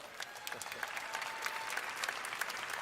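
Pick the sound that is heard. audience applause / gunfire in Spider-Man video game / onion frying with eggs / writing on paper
audience applause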